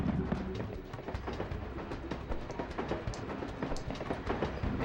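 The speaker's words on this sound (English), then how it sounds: "I feel like I'm gonna be chased by a train here." A train rumbles toward the player in the PS1 game Jackie Chan Stuntmaster, with a steady rhythmic clatter of wheels over a low rumble. It stays at a moderate level throughout, with no voices over it.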